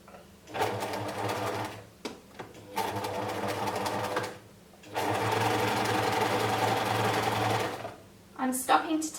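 A sewing machine hums steadily while stitching the side seam of cotton boxer shorts, running in several long close bursts with brief stops between, and someone talks over the whirring.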